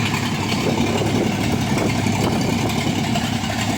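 A dredger boat's engine runs with a steady, dense mid-to-low rumble that holds unchanged throughout, close and loud with no voices.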